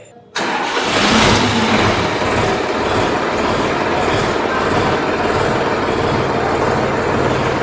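Solis Yanmar 4215 E 2WD 43 HP tractor diesel engine cranking and catching after a brief pause, then settling into a steady, close, loud idle rumble that continues unbroken.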